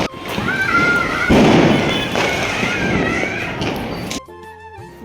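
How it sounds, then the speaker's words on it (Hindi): Firecrackers set off during Diwali night, a dense stretch of loud bangs and thuds with crackling bursts running almost continuously, ending abruptly before a brief different sound. "पटाखे बैन हो चुके हैं, मगर लोगों के देखना क्यों जला रहे पटाखे"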